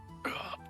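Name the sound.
cough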